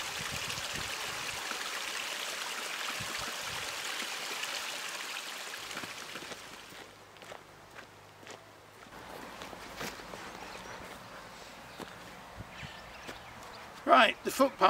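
A river flows near a footbridge on the Langdale Valley floor in the Lake District, a steady rushing wash that fades midway, with footsteps and a few louder knocks near the end.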